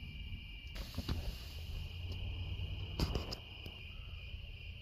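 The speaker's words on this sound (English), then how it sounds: "the crickets are just right for sleeping" Crickets chirp steadily at night outside the open windows of a campsite on a warm evening, a continuous high trill with a few sharper clicks and knocks passing over a low background hum.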